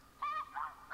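Snow geese honking in the hunting game The Hunter Classic: three short, nasal honks spaced apart, fairly faint and distant, over quiet background.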